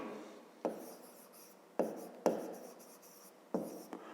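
Pen or pencil writing out a fifth-grade triangle math solution on paper, close and quiet, with four sharp taps where strokes begin, each trailing into soft scratching.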